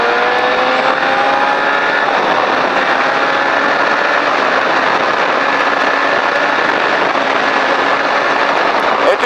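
A race car accelerating along the straight of a circuit, its engine a steady, loud, sustained drone with rising tonal whine that holds without a break for the whole stretch.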